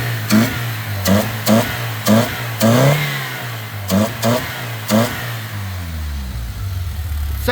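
A freshly rebuilt, well-maintained motor revs repeatedly in short sharp bursts over a steady idle, about eight quick throttle blips in a row before settling back down, loud and close with no talk.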